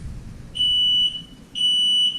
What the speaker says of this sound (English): my boat is beeping